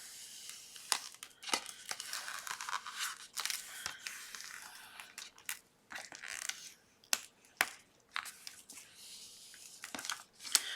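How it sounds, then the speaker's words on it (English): Cut iron-on vinyl is peeled and picked off its backing sheet, giving sharp crinkling snaps and scratchy tearing rustles in irregular close bursts. "let me make sure I can weed this off"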